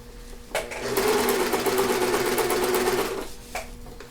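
A domestic sewing machine runs a single continuous stitching burst of about two and a half seconds, close and steady, with brief mechanical clicks before and after.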